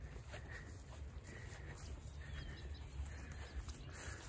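A lone horse in a fenced field gives a faint, distant neigh, repeated in a few brief whinnying calls under steady outdoor wind noise.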